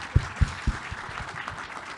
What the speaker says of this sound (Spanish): Un aplauso, yo creo, para